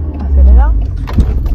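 A car engine revs hard and rises in pitch as the clutch is let up and the driver accelerates, a loud low rumble with people talking over it.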